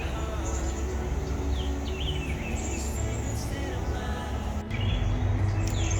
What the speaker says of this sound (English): I'm trying to let y'all hear the birds chirping.